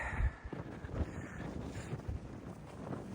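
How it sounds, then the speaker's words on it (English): Wind buffets the microphone in a steady low rumble with gusty bursts, recorded outdoors while traveling in a right-hand-drive Land Cruiser, with no talk. "Wind's getting it today."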